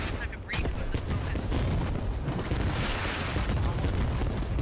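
A smoke barrage in the Squad video game booms on without pause, a loud, dense wall of artillery fire with a few sharp cracks near the start.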